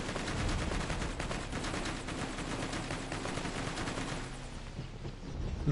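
Rapid gunfire in Borderlands 2, a dense stream of close shots rattling almost continuously for several seconds before thinning slightly near the end, with no voices.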